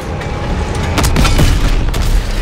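Tank cannon fire and explosions in Call of Duty: WW2 during a tank battle in Aachen, a couple of heavy, close booms over a dense, rumbling battle din, with no clear speech.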